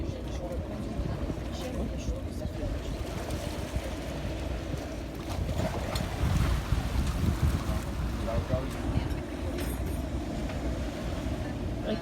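A boat moving on the water near the Ponte 25 de Abril between Almada and Lisbon, heard as a steady broadband rumble of motor, wind and water that swells briefly midway, with faint voices mixed in.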